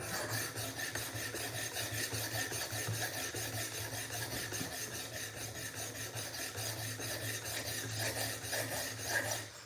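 A Benchmade knife blade is drawn across a whetstone in a steady run of close, gritty rasping strokes, repeated evenly and alone at a modest level.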